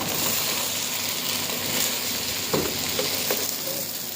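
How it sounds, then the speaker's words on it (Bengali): Soybean pulao with rice being stirred in a frying pan, a steady close sizzle of frying with a few soft scraping clicks from the spoon toward the end. "এখন এখানে মিক্স করব চাউলটা"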